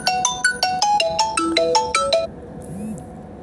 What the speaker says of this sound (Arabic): أنا آسفة على الصوت وعلى رنة التليفون